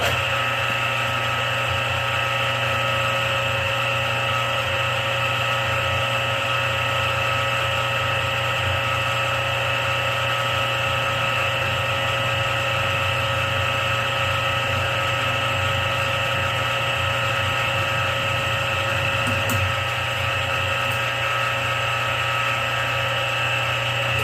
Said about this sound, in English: And there's 2 little pilot holes drilled